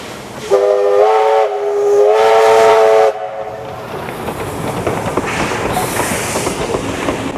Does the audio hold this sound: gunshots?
no